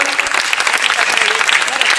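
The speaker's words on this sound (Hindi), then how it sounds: "एक बार तालियों के साथ आप निमंत्रण और दे दें।" At a foundation day event in Sirsa, a crowd bursts into loud, close, dense applause, with brief murmurs of voices mixed in across two seconds of clapping.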